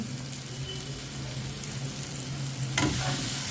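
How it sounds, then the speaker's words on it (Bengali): Katla fish simmering in a yogurt gravy in a pan, with a steady close sizzle and sputtering throughout and a sharper burst of crackling near the end, with no voices. "এবার একটু ভালো করে কষার জন্য সময় দেব"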